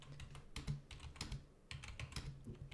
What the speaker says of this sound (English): I'm going to just type it in here and go